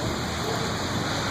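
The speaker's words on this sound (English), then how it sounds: "So I'll just try and wait for this rain to settle down" Heavy rain falling during a storm: a dense, steady hiss of downpour, loud and close, with no voices over it.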